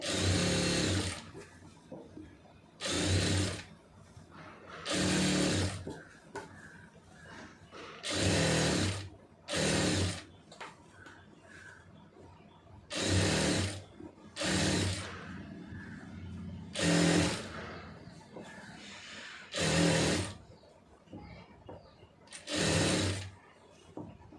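A sewing machine runs stitches around a folded fabric edge in about eight loud bursts of a few seconds each, separated by short quiet gaps, with no talking over them.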